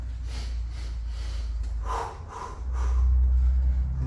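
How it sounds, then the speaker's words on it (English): Heavy, rapid breathing during active rest in a garage leg and abs workout, loud and close, with rhythmic snorting puffs and gasps one after another and no talking. "This is the time to catch up that breath."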